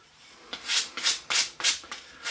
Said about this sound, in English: so we're going to sand those by hand